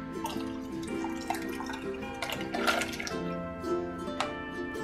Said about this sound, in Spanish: ahora lo que voy a hacer es cocerlas y ponerlas con todo y el agua que tenían con sal